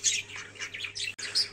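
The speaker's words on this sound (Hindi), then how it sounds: "तो इज़ा जो है वो मेरी हेल्प कर रही है, कबूतरों को जो है ना फीड करा रही है और पानी शानी रख रही है।" Pet pigeons call in a brief, close burst of squawks and chirps, several overlapping calls in quick succession with no talking.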